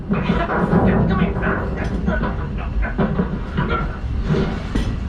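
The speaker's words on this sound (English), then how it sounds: "It's a train." Walt Disney World Railroad train running with a steady rumbling clatter and rhythmic wheel clicks, close and fairly loud throughout, mixed with faint background voices.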